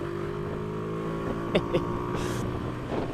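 A motorcycle filtering through slow traffic, its engine giving a steady drone with a couple of brief louder bursts partway through.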